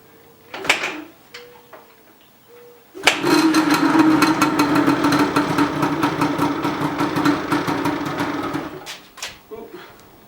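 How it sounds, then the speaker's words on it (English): A Yamaha Banshee ATV's two-stroke motor cranks briefly, then catches and runs with a rapid, rattling buzz for several seconds before dying out, followed by a few short clunks. "Turn the motor on."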